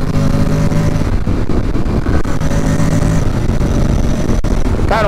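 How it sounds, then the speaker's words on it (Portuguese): A Honda X-ADV 750 scooter with a 750 cc twin engine roars loud and close on the Interlagos circuit, a steady throaty drone with rising revs and some wind noise. "o ronco desse motor eu acho muito legal, cara, desse 750 da Honda"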